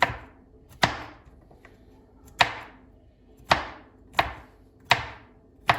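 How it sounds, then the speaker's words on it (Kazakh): Knife chopping food finely on a board while preparing a banana cake, six sharp, well-spaced chops about a second apart, close and distinct with quiet pauses between. "майдалап турап кесеміз"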